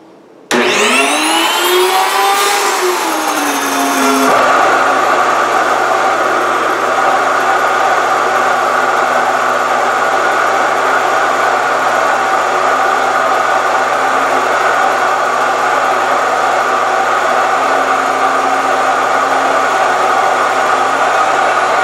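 A Wondermill electric grain mill starting up with a rising whine as the motor spins up, then settling into a loud, constant high-pitched roaring hum as it grinds grain, close and steady throughout.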